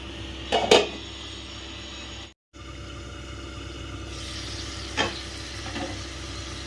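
Potatoes and pointed gourd fry in a pan over a low flame with a steady soft sizzle, broken by a couple of stirring clatters and a brief dropout.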